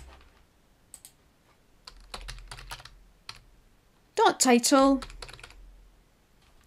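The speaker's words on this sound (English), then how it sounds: "all I need to do is type in" A computer keyboard clatters in short bursts of fast typing as R code is entered, and one person talks briefly partway through.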